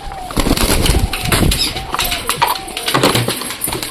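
Pigeons flying in to a rooftop loft, a flurry of wing flaps in quick bursts close by, with soft cooing and scattered background noise between the flapping.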